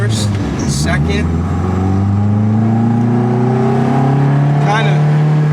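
An Integra GS-R converted to all-wheel drive accelerating hard through the gears, its engine droning loudly from inside the cabin, pitch rising steadily with a brief shift dip early on, while someone talks over it.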